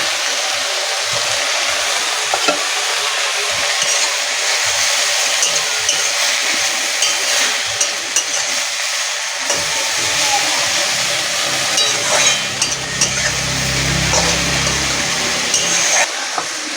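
Mustard greens fry with turmeric and salt in a pan, giving a steady, continuous hiss and sizzle that runs the whole time with no one speaking.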